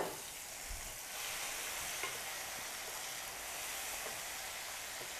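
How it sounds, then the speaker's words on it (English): Tomatoes go into a frying pan with pancetta and wild asparagus, and a broad, steady sizzle follows, close and even, with a faint stir or bump near the start. "And now we're going to add the tomatoes."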